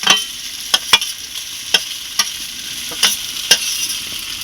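Eggplant and potatoes frying together in a pan while a rui fish curry is being made, giving a steady close sizzle broken by sharp scrape-and-stir clatters every second or so.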